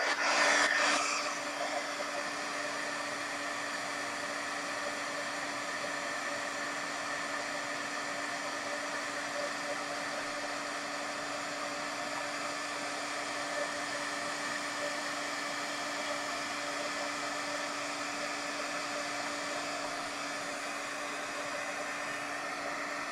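A heat tool heat-setting embossing powder during glitter crafting blows a steady, loud whooshing roar that starts with a brief louder burst and then holds an even drone for over twenty seconds, with no talking.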